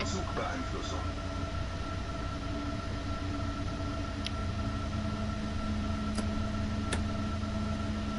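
A train running in the Train Sim World 2 video game, a steady loud rolling rumble with a sustained tonal hum and a few faint ticks, continuous throughout without talk.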